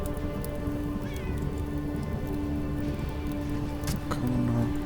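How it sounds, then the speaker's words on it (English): A cat meows a few times in the video game Underrail, with short, faint cries over a steady bed of rain-like ambient noise and low background tones. "They have a cat, so this is a civilized area."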